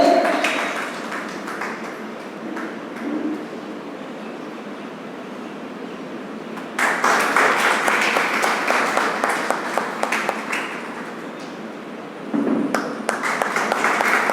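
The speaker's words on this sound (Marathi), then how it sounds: "टाळ्याचा जोरदार कडकडाट करून आपण हा क्षण खास आणि संस्मरणीय करायचा आहे तर एकदा जोरदार टाळ्या झाल्या पाहिजेत" Loud applause from an audience at a poetry gathering's inauguration ceremony, with a steady, dense wash of clapping that swells sharply louder midway and again near the end, with no talk over it.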